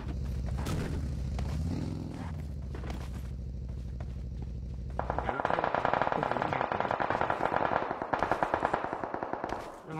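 Automatic gunfire in the battle royale game PUBG Mobile, loud rapid bursts filling the second half after a stretch of game noise and low rumble, with dense crackling shots continuing to the end.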